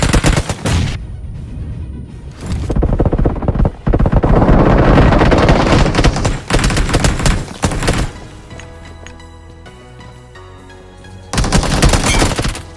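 BGMI battle royale game combat: loud bursts of automatic gunfire and heavy explosive blasts, including a grenade, come in rapid clusters separated by brief quieter gaps.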